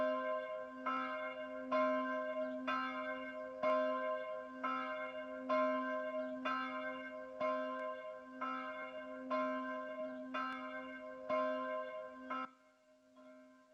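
A church bell in a game acoustics demo tolls steadily about once a second against a sustained low hum, each strike ringing out with bright overtones before a final quieter stretch.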